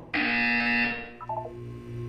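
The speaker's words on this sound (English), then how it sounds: "You will hear a buzzer. When you hear the buzzer, look down at the floor." Harsh electronic buzzer from the video game Portal 2, one loud, steady tone of nearly a second, then short lower blips and a fading hum.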